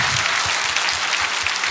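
Congregation applause in a church, a brief burst of steady, dense clapping from many hands, fairly loud and even throughout.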